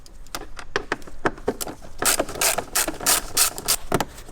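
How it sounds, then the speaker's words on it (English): A 6mm socket on a ratchet loosens an airbox clamp on a BMW N55 engine, giving rapid, close clicking in quick bursts with a few firmer turning strokes. "we're going to use a 6mm socket, or you can use a flathead to loosen this clamp that goes to the airbox"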